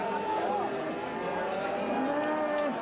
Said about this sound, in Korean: 우시장이 열리는 날이면 퇴계동 일대는 새벽부터 우렁찬 소 울음소리로 가득했는데요